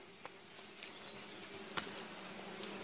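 Honeybees buzz steadily at an open hive during an inspection, a continuous close, moderately loud hum without talk.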